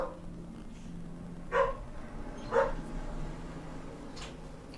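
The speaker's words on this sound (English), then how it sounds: "And chances are you'll hear my puppies downstairs." Puppies barking from downstairs in a house, two distinct, somewhat muffled barks about a second apart over a quiet room hum, with a faint third yip near the end.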